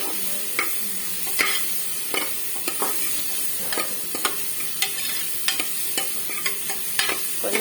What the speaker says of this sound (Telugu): కొంచెం పచ్చివాసన పోయేదాకా ఒక 2 సెకండ్స్ అయితే ఫ్రై చేసుకోవాలి.